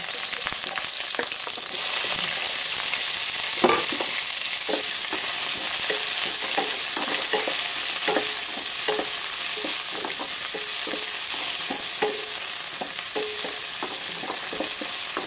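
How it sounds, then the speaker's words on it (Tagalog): Aromatics sizzle steadily in a hot pan (kawali) for a mung bean stew. A spatula scrapes and stirs at irregular intervals over the constant frying hiss. "Ayan, mainit ng ating kalha. Ilagay na natin ang ating mga panakot."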